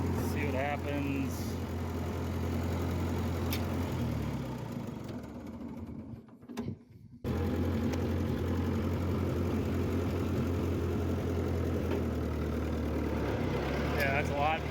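A 1950 Ford 8N tractor engine running with a loud transmission, a steady low chugging drone and gear whine close by that briefly dips and then returns, with someone talking over it.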